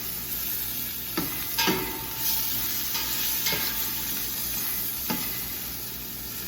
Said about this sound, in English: just brown the edges of the meat